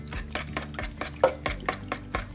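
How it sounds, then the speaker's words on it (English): Eggs and heavy cream being mixed in a bowl, with a quiet, steady rhythmic tapping and swishing of a utensil against the bowl, about two strokes per second, close up and with no talk. "Mix all that together."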